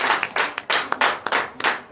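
A church congregation clapping in acclamation, a burst of loose, rhythmic hand claps repeating in quick waves, fairly close and without talk over it.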